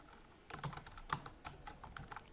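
Computer keyboard typing while entering a computer name, a short burst of light irregular key clicks up close after a brief pause, quiet and without talking.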